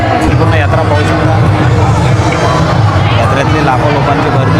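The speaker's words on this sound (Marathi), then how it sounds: "यात्रेतली लाखो लोकांची गर्दी." Dense babble of a huge crowd at the Sakharampur yatra fair near Ellora, a steady, loud, unbroken murmur of many voices with traffic rumbling underneath.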